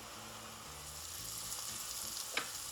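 Mushrooms for a wild rice and butternut squash soup sizzle as they caramelize in a pan, a soft even frying hiss with a small pop near the end, heard on its own.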